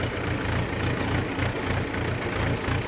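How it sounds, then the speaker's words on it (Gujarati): A farm tractor's engine runs steadily in a field during fertilizer spreading, with a low rhythmic throb pulsing about three times per second and faint repeated higher clicks, no voices. "આપણા ટ્રેક્ટર કેવું ફાયરિંગ મારે છે તમે જોયું જ હશે"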